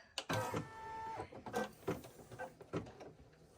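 A home embroidery machine stitches pink thread into a denim jacket, giving a quiet, uneven mechanical whirring with repeated short needle thumps and faint clicks, close by.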